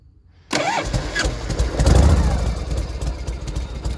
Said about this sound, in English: So that's a cold start.